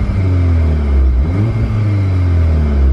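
An Audi S1 with a 2-litre TFSI engine runs and revs, a loud close rumble that swells and dips once before settling back to a steady idle.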